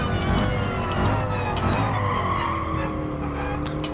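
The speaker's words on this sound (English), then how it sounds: "Hard braking into 1." A 1963 Corvette in Gran Turismo Sport brakes hard into turn one at Autopolis without ABS, its tires squealing and skidding continuously over a loud engine roar.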